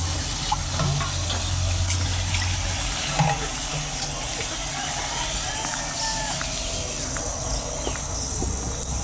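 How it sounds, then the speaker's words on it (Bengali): Water poured into a pan of fried masala for a koi fish curry, heard as a steady liquid wash with faint splashing that runs throughout, with a constant background hiss and no one talking. "এখন ঝোলের পানি দিয়ে দেব।"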